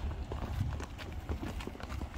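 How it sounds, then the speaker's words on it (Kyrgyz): A big horse with a white blaze arrives with quiet, steady clip-clopping hooves that sound close but soft over a murmuring background. "чоң кашка келди ат"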